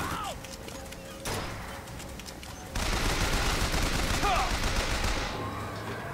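Gunfire in BioShock Infinite: a quiet burst, then sustained, dense shooting with clattering impacts that later fades back down, with no talk over it.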